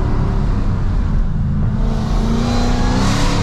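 A 914 bhp Dodge Hellcat accelerates hard under light throttle, its engine note loud and close, dropping briefly on an upshift before climbing again in a continuous roar.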